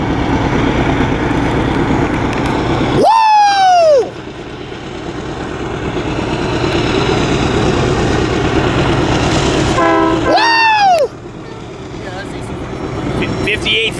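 A freight train led by an AC4400 locomotive labors up Cajon Pass with a steady heavy rumble, broken by two long horn blasts some seconds apart, while onlookers nearby cheer and talk.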